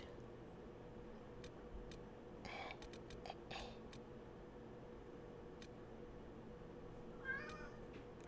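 A cat in the game Dragon Age: Inquisition meows once near the end, a short faint call over a steady low hum, after a few soft clicks and taps earlier.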